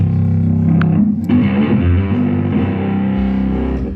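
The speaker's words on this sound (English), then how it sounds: "I play a lot of Fenders, and this distortion pedal that I created in orange." A bass guitar played through a distortion pedal, loud and close, thick gritty low notes moving in a steady pattern with a couple of brief pick scrapes.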